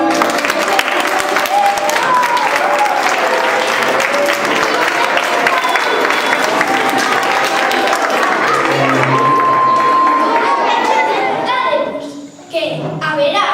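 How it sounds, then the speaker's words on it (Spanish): Audience applause at a children's poetry day event, sustained and dense clapping mixed with crowd noise and children's voices, steady throughout before tapering off near the end. "Un aplauso."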